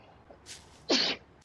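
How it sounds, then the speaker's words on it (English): A single sharp sneeze from a young woman, preceded by a short breathy intake, loud and close with no talking around it. "Hold on, I have to sneeze"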